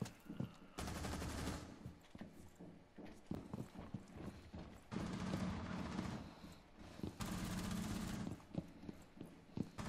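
Gunfire in Rainbow Six Siege, sharp rapid shots in bursts over a low game background, fairly quiet overall, with brief sections of denser shooting.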